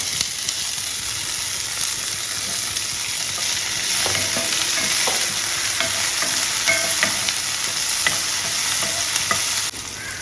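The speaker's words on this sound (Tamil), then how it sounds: "கொஞ்சம் அப்படியே வதக்கி வச்சுக்கலாம். இப்போ தக்காளியும் போட்டுக்கலாம்." Onions and tomatoes sauté in hot oil with curry leaves for a mushroom kurma, giving a steady close sizzle with scattered spoon scrapes and stirring clicks throughout, no voices.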